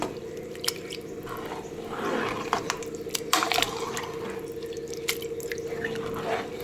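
Wet sloshing and stirring of water in a pot of soya chunk pulao, with soft liquid drips and scraping sounds over a steady low hum, no voices.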